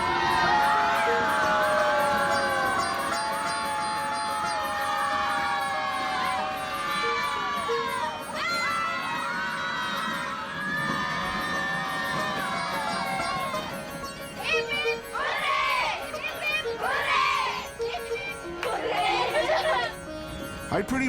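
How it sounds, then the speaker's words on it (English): Uniformed schoolchildren aboard a train cheer and shout together as it passes through a tunnel, a loud, sustained crowd of young voices with whoops and rising cries that swell again in bursts toward the end. "The school kids in their uniforms cheer in unison every time we pass through one of the tunnels"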